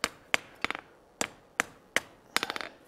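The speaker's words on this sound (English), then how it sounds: "doubling the angle of our hammer like so to just" A blacksmith's hammer strikes a bar on an anvil while forging a colonial-style trivet, ringing metallic blows landing singly and in quick bursts of bouncing taps, close and sharp with short decays.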